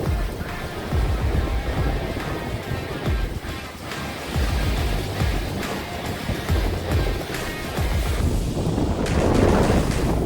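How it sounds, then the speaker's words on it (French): Strong wind buffeting the microphone and rough seas crashing around a racing sailboat in bad weather in the Bay of Biscay near Cape Finisterre, a loud continuous roar with surging waves throughout. "Le vent était fort, la mer agitée."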